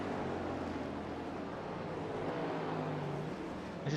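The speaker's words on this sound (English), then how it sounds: "You have the Acura of Skanker, that turbocharged V6, and then that loud, naturally aspirated V8 Cadillac" Turbocharged V6 Acura and naturally aspirated V8 Cadillac prototype race cars at a Florida Grand Prix, their engines making a loud, steady, continuous roar with no letup and no voices.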